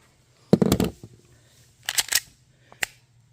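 Sharp pistol reports from a Canik TP9 Elite Combat and a Walther handgun at a target range, a few distinct cracks in small clusters with gaps between them, slightly muffled and without talk.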